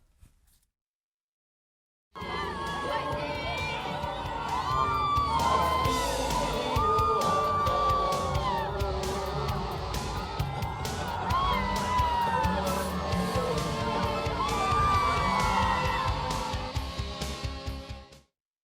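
A crowd cheering and shouting in front of a campaign bus carrying a political candidate, a loud, dense roar of whoops and yells that starts abruptly after a brief silence and carries on steadily before cutting off.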